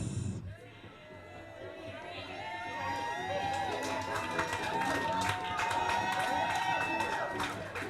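An audience at a primary school excellence award ceremony applauds and cheers for a student, a sustained wash of clapping and voices that swells after a brief pause and stays steady throughout.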